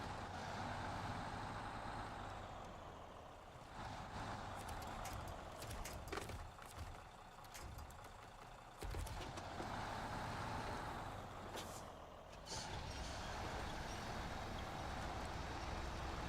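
A Kodiak truck in SnowRunner with a high-range gearbox strains its engine against a climb, a steady low droning rumble with clanking and rattling bursts that rise and fall throughout.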